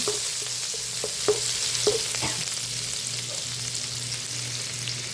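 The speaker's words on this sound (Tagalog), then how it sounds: "mag-isa po tayo ng bawang. Isama na ang sili." Garlic and chili sauté in a hot pan for a Filipino dish of fermented mustard greens with tofu and egg, a steady broad sizzle running throughout with a few sharp utensil taps and stirring scrapes, close and alone.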